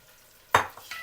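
Mutton pieces dropped into a hot cooking pot for turnip and spinach curry: one sudden close splash and sizzle burst, followed by a softer second clatter and a short hiss.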